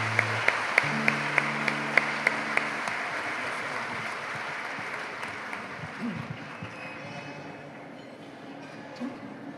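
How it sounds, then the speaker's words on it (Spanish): Audience at a Christian prayer breakfast applauds the preacher, a broad steady wash of clapping with some sharper individual claps early on and a low sustained tone under it at the start, fading slightly toward the end. "Un fuerte aplauso para nuestro apóstol de la palabra."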